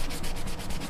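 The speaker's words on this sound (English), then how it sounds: "I'm going to wipe this paste off here" Thermal paste is wiped off a computer heat sink beside an Intel 775 socket, a steady close rubbing and scrubbing friction that pulses in a quick repeated rhythm throughout, alone without talk.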